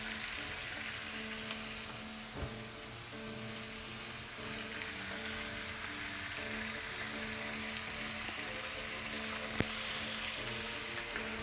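Thick-cut beef bacon frying in a cast iron pan, a steady close sizzle and crackle holding for several seconds, with a faint hum underneath and a couple of small clicks.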